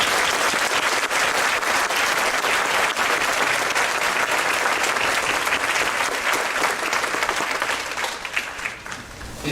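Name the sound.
applause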